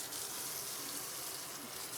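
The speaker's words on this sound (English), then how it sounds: "Maybe put the water and the sugar in together" Water pours steadily into a mixture with sugar for a recipe, a continuous soft rushing stream heard close and alone for about two seconds.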